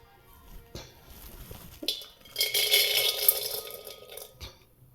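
A metal cooking pot is set on a home kitchen stove with a few light clanks and scrapes, followed by a brief hissing rush, all heard up close with no talking.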